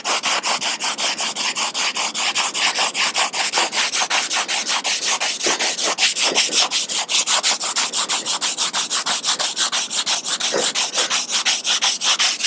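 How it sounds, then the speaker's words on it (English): Sanding excess resin off a surfboard by hand with 80 grit sandpaper: fast, steady back-and-forth rasping strokes, close and loud, continuing without pause and with no talking. "So I'm using 80 grit right now. It's going to cut quicker."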